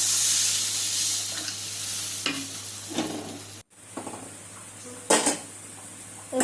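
A spice paste, flavoured with radhuni seasoning, sizzles in a pan while being cooked down for a boal fish and onion dish. The steady frying hiss is broken by several spatula scrapes and clinks, and there is a brief cut partway through.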